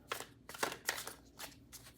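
Tarot cards are shuffled close by in a quiet room, with about six soft riffling bursts in a steady rhythm.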